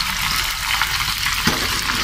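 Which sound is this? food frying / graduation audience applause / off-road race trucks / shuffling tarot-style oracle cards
food frying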